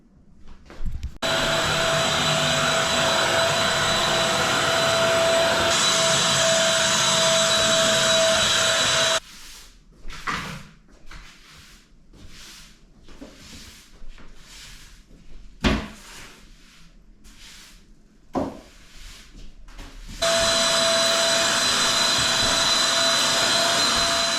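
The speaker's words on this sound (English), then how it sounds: "I'm gonna vacuum" A household vacuum cleaner whirs loudly in a new apartment kitchen, cutting off midway for a stretch of knocks and handling noises before the steady roar resumes.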